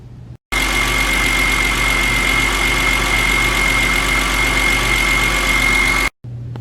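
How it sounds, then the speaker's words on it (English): An old, high-mileage BMW engine idles steadily just after starting, a constant low rumble with a persistent whine, close and loud, cut off by brief silences at both ends. "So now we're going to start the car and run it for 10 minutes."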